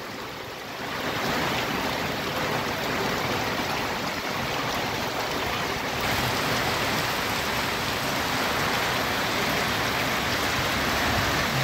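Heavy rain pours in a steady, dense roar that fills the whole stretch without a break, loud and close, with no voices.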